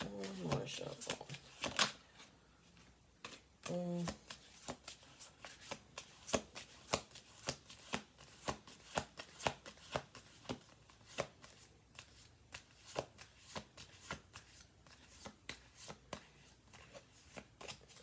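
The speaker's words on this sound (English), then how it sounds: "One more shuffle. One more shuffle." A deck of cards is shuffled close by with repeated quick riffles and taps in an irregular rhythm, and voices talk briefly near the start.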